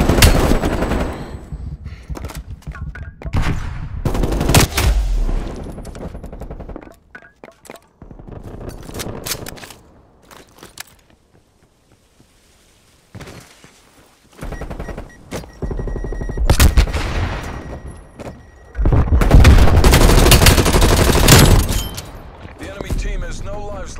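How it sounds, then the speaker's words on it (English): Video game gunfire from hostile forces comes in loud bursts of rapid automatic shots and single cracks, separated by quieter gaps, with a player talking over parts of it. "Hostile forces are shooting me."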